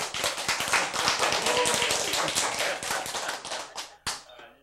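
Rapid hand clapping, a dense run of sharp claps close by that thins out near the end with a few isolated loud claps.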